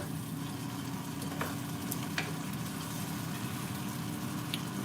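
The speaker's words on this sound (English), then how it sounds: "We're gonna let it fry for a little bit." Sauce fries in a pan, making a steady, soft sizzling hiss that stays even and fairly quiet for the whole stretch, with a few faint ticks and no talking.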